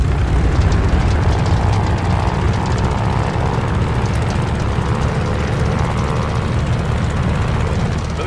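A WWII propeller plane's engine roars at full takeoff power in a video game, a loud, steady droning rumble that fills the clip without a break.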